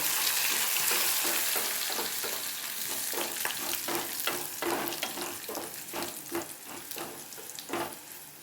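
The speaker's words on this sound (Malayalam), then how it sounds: "ഉള്ളിയെല്ലാം ഒരു ബ്രൗൺ കളറായിട്ടുണ്ട് ഇതിലേക്ക് കരിയാമ്പില ഇട്ട് കൊടുത്തു" Browned onions and curry leaves fry loudly in a pan, a dense crackling sizzle broken by repeated spatula scrapes, close and steady with no voices.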